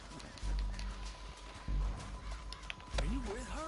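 A horse gallops in the Red Dead Redemption II video game, its hoofbeats thudding in quick bursts among other game sounds while voices shout over them.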